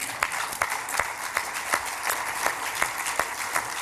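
An audience at an Austin coalition speech event applauds, a dense patter of clapping with sharper individual claps standing out in a quick, regular rhythm, moderately loud in a room, with no one talking.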